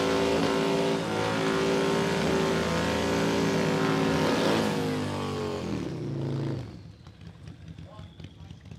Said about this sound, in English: You can hear that turbocharged Fat Bob.